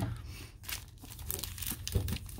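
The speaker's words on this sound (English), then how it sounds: "we are going to rip this whole box" Crinkling and tearing of foil wrappers as a Target-exclusive blaster box of 2020 Topps Update baseball cards is ripped open, a steady close-up rustle with a louder crunch near the end.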